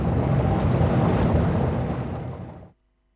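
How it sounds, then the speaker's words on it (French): Turbulent water churning and surging inside a steam boiler, a loud, steady broadband rush that holds for over two seconds, then fades slightly and cuts off abruptly. "il y a toujours d'importants mouvements d'eau et des turbulences significatives"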